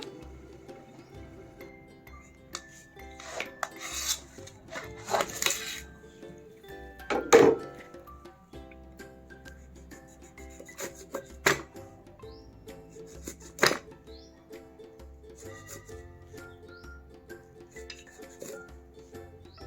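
Lemons being cut into pieces on a board for a pickle produce sparse, quiet knife taps and scrapes with occasional louder clacks, spaced irregularly against a near-silent background.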